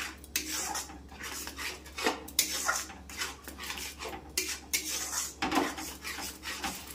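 Spinach being stirred and sautéed in a pan over a raised gas flame, repeated close metal scrapes and clatters of a spoon against the pan in an uneven rhythm, with no talking.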